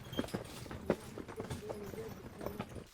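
Percheron carriage horses clop along a trail in an uneven, moderately close rhythm of hoof strikes, with faint background sounds and a hint of voice.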